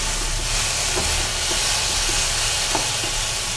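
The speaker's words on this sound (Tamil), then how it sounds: "இதோட இப்போ கொஞ்சம் போல் உப்பு போட்டு வதக்கிக்கலாம்" Ginger and tomato sautéed with salt in a pan for ginger chutney, heard as a loud, continuous frying hiss with faint occasional taps of a spoon, close up and with no talking.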